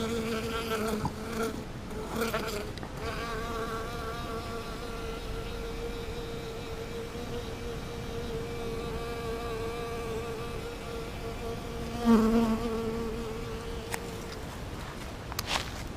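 Honeybees buzz around farm beehives in Jacksonville, North Carolina, in late December, a continuous droning hum with individual bees swelling louder as they fly close past, most noticeably near the start and again about two-thirds through.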